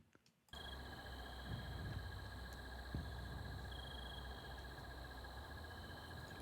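Open-air nature ambience with a steady high cricket chirring over a soft noisy bed, a faint tonal insect or frog layer, starting abruptly after a brief quiet moment and continuing evenly.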